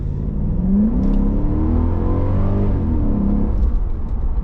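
Mercedes 500E sedan accelerating hard along a straight, a steady loud engine roar with rising and falling pitch sweeps as it pulls through the gears, no voices over it.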